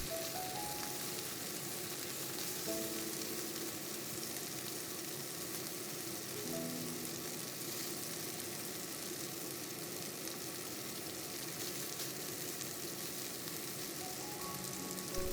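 Pork ribs sizzle in a little oil inside a covered wok, a steady, fairly soft hiss of frying with faint background tones and no voices.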